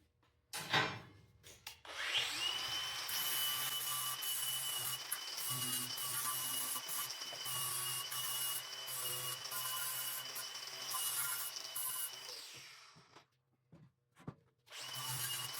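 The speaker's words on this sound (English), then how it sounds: "everywhere that I need to grind a little bit, and I'm gonna get that done right now" Angle grinder fitted with a flat disc grinding metal in a fabrication shop, a steady harsh whine running near and loud for about ten seconds after a short start, then cutting off in brief bursts.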